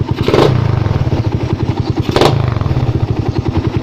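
Suzuki Raider 150 motorcycle fitted with an APIDO aftermarket exhaust pipe, idling with a rapid throbbing pulse and two sharp throttle blips, loud and close-up, no one talking.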